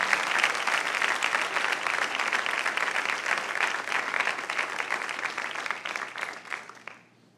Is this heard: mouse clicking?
no